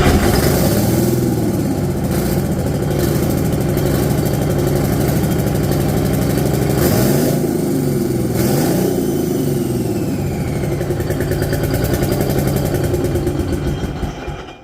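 Detroit Diesel engine running continuously at close range during a test run, a loud steady rumble with a couple of brief revs in the middle before cutting off at the end.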